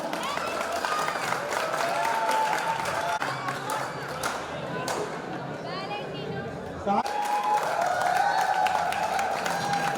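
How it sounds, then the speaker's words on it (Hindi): Crowd clapping and cheering at a college sports event after a high-voltage match, lively applause mixed with chatter and shouts, with a loud announcer's voice talking over it. "तालियां बजाओ सब, तालियां।"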